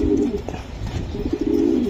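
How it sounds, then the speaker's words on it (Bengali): Racing pigeons cooing up close, with soft rolling coos that repeat in short bursts and stand alone without talk. "দুটোটা কবুতরের রেস করা কবুতর এই জায়গায়"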